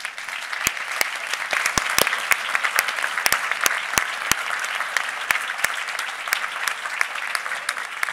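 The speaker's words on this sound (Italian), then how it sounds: "con questo applauso" An audience gives a steady round of applause, many hands clapping in a dense even patter with a few sharp, louder claps standing out close by throughout.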